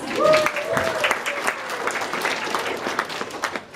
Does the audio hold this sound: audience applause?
yes